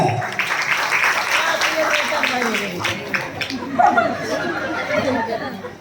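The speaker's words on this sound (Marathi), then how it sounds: "जोरदार टाळ्या." An audience at a Ganpati-special home-minister game show in Ernakulam, Kerala, breaks into loud applause mixed with crowd chatter and some laughter, sustained clapping close by.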